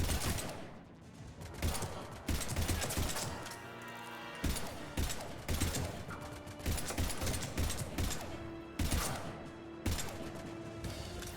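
Gunfire rattles in Mass Effect 3, dense bursts of mechanical shots and clanks that come in loud, rapid volleys, pause briefly, then resume with impacts and metallic creaks.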